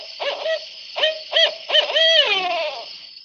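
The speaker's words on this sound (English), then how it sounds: "I like the sound of that barred owl." A barred owl gives a series of loud, close hoots, several short calls and then a longer descending wavering call, over near silence.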